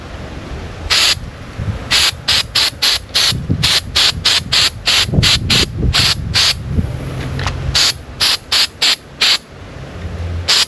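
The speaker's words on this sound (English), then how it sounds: "so I got to spray them" Short bursts of insecticide spray hiss at flies repeat in quick, uneven succession, about twenty sharp pulses, loud and close, over faint background noise, in rural St. Thomas, Jamaica.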